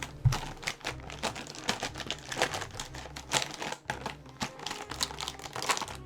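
Felt markers rattle and clatter as they are shaken and mixed in a box, a quiet, busy stream of small plastic knocks and scrapes with no talking.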